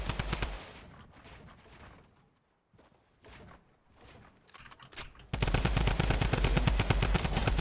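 Sharp repeated Fortnite shotgun shots ring out in bursts, pausing briefly, then erupting into loud, rapid continuous fire near the end, like game combat.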